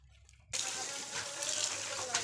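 Tap water gushes steadily onto fresh garden leaves being rinsed one by one on a rooftop, starting abruptly after a short quiet moment and running close and constant to the end.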